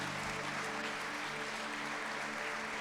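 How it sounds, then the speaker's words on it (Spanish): Church congregation clapping during a pastor's sermon, a continuous wash of applause heard faint and distant throughout. "Dale un aplauso a Jesús."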